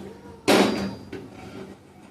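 A lid clatters shut on a cooking pot in a home kitchen: one sharp metallic clank followed by a brief rattle as it settles, then a softer knock, fairly close and with no talk over it.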